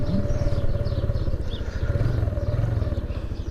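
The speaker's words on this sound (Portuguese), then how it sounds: "dando uma voltinha aqui com a moto" A Suzuki Intruder 125cc motorcycle being ridden, its engine giving a steady, close, continuous low rumble with a pulsing idle-like beat and some road and wind noise throughout.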